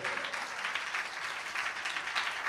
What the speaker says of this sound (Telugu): గట్టిగా చప్పట్లు కొట్టండి.